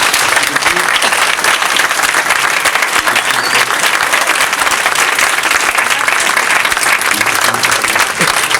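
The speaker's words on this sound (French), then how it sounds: "je pense qu'on peut vous applaudir" An audience at a literary interview event breaks into sustained applause, with dense, continuous clapping filling the room for several seconds and a few voices mixed in.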